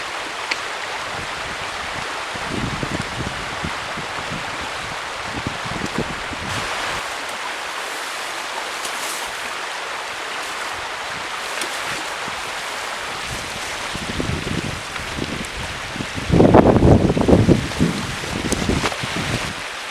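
Bued River flows steadily beside a camping spot, a constant broadband rush of water that swells louder in a brief surge near the end, with no voices.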